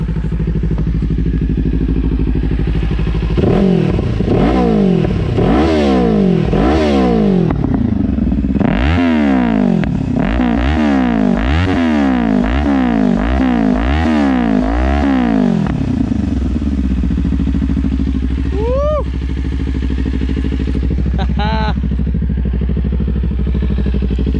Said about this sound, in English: the sound to me for a parallel twin 2-cylinder bike, pretty dang good in my opinion